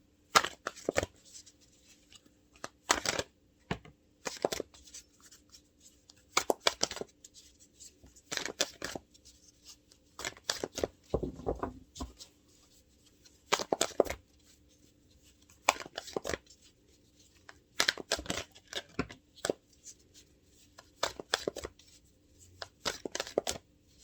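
Tarot cards being shuffled and drawn for a reading, quiet crisp riffling bursts repeating at irregular intervals with near-silent pauses between them, close and soft.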